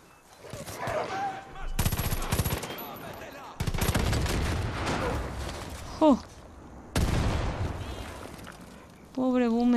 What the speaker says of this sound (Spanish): Pobre Boomer, le tocó la explosión